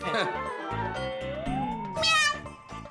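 A person imitates a cat's meow in a comedic household scene, a short nasal rising-and-falling mew voiced among other people talking close by.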